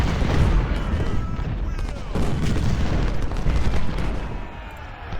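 Artillery cannon fire in Ultimate General: Civil War at Second Bull Run, a dense, continuous rumble of booms and distant gunfire rolling on without pause, with battle noise layered throughout.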